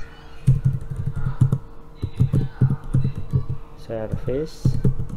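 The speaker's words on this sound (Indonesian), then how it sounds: "misalnya kita ketik service" Quick bursts of typing on a computer keyboard, clusters of close, crisp key clicks with short pauses between them, while a person talks in the background.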